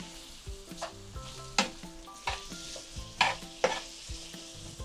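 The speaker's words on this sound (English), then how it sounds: "I'm gonna stir it up some more." Quinoa and summer vegetables with peppers and zucchini stirred in a pan, a spoon scraping in uneven strokes with a few sharper clinks over a steady low sizzle, close and moderately loud, no voices.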